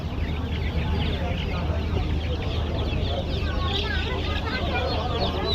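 Chickens for sale at a Sunday village market cluck and squawk steadily and close by, a busy flock chattering throughout while people talk in the background.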